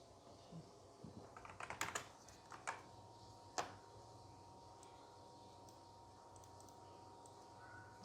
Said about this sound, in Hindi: जैसे मैं कुछ भी अब टाइप कर रहा हूँ